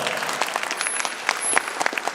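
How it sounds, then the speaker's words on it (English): A crowd claps steadily, a dense patter of many hands that continues throughout without pause. "let's get a sister a round of applause"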